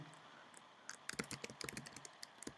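Quiet, close keystrokes on a computer keyboard while entering a root password, a sparse few clicks at first building into a quick irregular burst of tapping, then slowing to scattered final presses over a faint background hiss.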